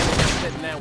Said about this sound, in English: Now, topple him with some gunfire!